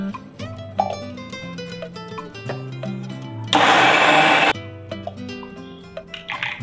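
Kitchen blender grinding green chilies, ginger and curd into a paste, one loud whirring burst of about a second standing out above background music.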